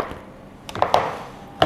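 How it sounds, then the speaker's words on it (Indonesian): Cupcake batter being stirred in a bowl for steamed milk sponge cupcakes, heard as a few sharp knocks and clacks of the utensil against the bowl. The sounds are irregular and close, with no speech. "kita aduk ya, supaya esensinya rata ya"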